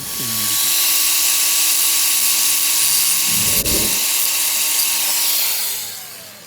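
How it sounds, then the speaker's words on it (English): A power tool grinds away a metal top on a Hyundai Santa Fe during a timing belt replacement, a steady high whine running for several seconds with one brief dip partway through. "You need to grind away this top to do it."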